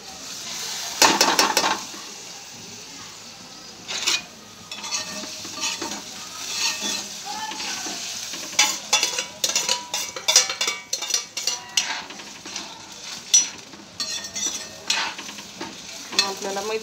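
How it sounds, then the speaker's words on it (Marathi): Vermicelli gets stirred in a pot of water with repeated scraping and clinking of a spoon against the metal, an irregular rhythm of sharp taps over a steady bubbling hiss, close and fairly loud. "आता हे शेवया आपण ह्याच्यामध्ये घालून घ्यायच्या."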